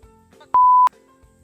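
A loud, steady electronic censor beep lasts about a third of a second. Quiet background noise comes before and after it.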